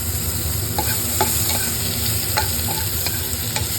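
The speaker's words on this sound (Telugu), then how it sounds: "ఆనియన్స్ ఫ్రై అవుతున్నాయి" Onions frying in a pan for tomato curry, a continuous close sizzle with a few light scrapes of a stirring spoon, no voices.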